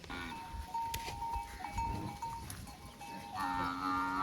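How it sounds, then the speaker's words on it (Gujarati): Cattle low and moo at moderate distance as herders drive them along in the early morning, with a few calls over a quiet outdoor background. "વહેલા સવારમાં માલ ધારી ઢોરા હાંકીને જઈ રહ્યા છે"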